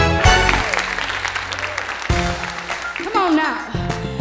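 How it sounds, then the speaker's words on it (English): An audience applauds at a live televised singing competition as a contestant begins a song. The clapping is loud and steady, mixed with a voice and the opening music. "Come on now. Clap those hands."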